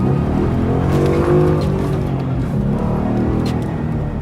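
A Ford Mustang GT revs loudly and close during street drifting, its engine droning with fluctuating pitch and possible tire noise, and no voices are heard over the continuous engine roar.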